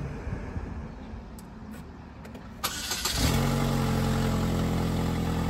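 A car's engine turns over and catches, then settles into a steady, close idle with a low continuous hum after a few brief clicks and clatter.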